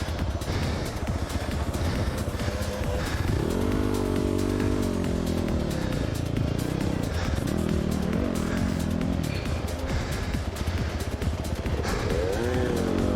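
A motorcycle engine in a video game on a difficult track revs and drones steadily, its pitch rising and falling as the throttle changes, loud and continuous with no talking.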